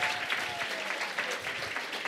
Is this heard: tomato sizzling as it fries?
no